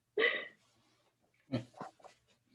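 A pet dog indoors gives one short, sharp snorting or whining burst up close, then after a pause lets out a few quieter snuffly sounds in quick succession.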